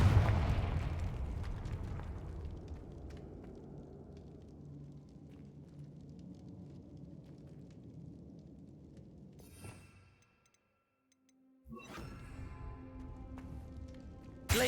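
The Confringo fire spell in Hogwarts Legacy bursts with a loud, booming explosion at the start, then a long rumbling decay. After a brief silence, a crackling burst of sound follows.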